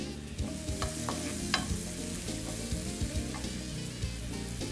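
Mushrooms, bacon and onion being stirred and sautéed in a pan, with a steady sizzle and repeated scraping strokes of the spoon throughout, close and moderately loud.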